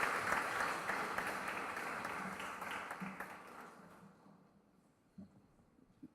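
An audience at a court plenary session applauds in a dense, sustained burst that thins and fades over several seconds, ending in a few scattered claps, with no talking over it.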